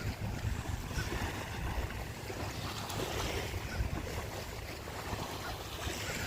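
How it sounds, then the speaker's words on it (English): Ocean waves wash steadily onto the beach at Smyrna Dunes Park in New Smyrna Beach, Florida, a continuous broadband rush with wind noise on the microphone and no talking. "just enjoy the waves and the seagulls"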